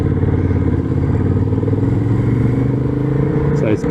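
A Honda CB750 Hornet motorcycle on a test ride runs with a loud, steady engine drone and close rumble. The drone holds throughout, with rushing wind and a brief clatter near the end.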